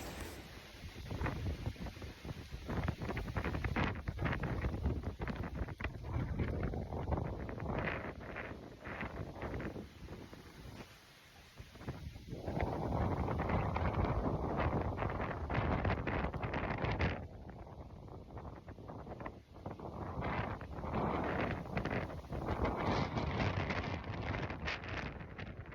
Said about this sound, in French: il y a du vent et tout, c'est horrible